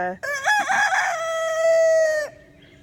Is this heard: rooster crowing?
yes